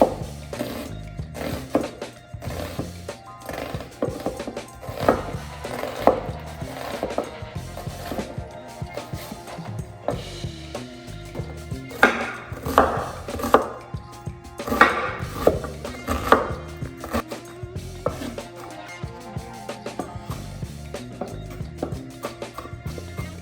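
A knife chops a big red onion for a shrimp marinade in steady, irregular taps on a cutting board, close and fairly crisp, continuing throughout with occasional louder knocks.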